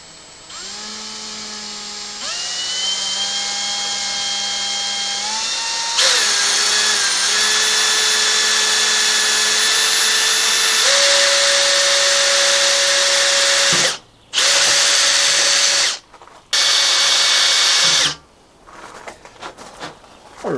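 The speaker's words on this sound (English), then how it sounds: "now we drill the hose." A power drill boring holes into a custom motorcycle tail light for a Suzuki GN250 scrambler whines loudly and steadily, shifting pitch as the bit bites, then stops and restarts in short bursts near the end.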